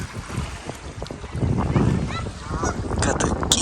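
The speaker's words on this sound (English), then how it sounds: "Got the geese and seagulls on Seagull Island." Geese honking repeatedly at Flat Lake, Ontario, with seagulls nearby on an island; the calls come in scattered bursts over steady wind and lapping water, moderately near and growing busier toward the end.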